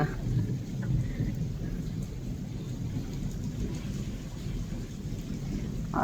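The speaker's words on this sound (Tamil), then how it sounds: "இங்க பாருங்க இடிமுழக்கத்தை பாருங்க" A rainstorm in the UK fills the scene with a low, continuous rumble of thunder under steady rain, heavy and enveloping throughout with no voices.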